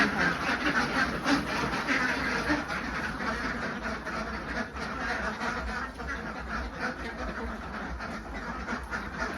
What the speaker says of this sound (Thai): มาดูเป็ดอีเลี้ยงตรงนี้กัน แอบมากินน้ำ กินน้ำแล้วก็ออกไป